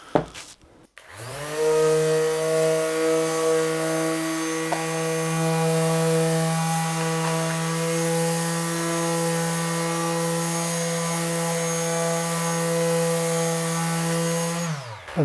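A power sander whines steadily on wood held by Gecko Bloc grips, a loud close motor tone with a strong hum that holds for about fifteen seconds after starting up.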